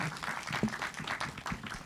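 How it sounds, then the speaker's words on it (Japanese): A press-conference audience applauds to welcome director Makoto Tezuka onto the stage for his film Barbara, a soft, steady patter of many hands heard from a distance throughout. "拍手でお迎えください"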